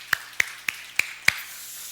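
Five sharp, isolated claps ring out at even intervals in a church congregation, fairly quiet and separated by brief near-silence, with no voices.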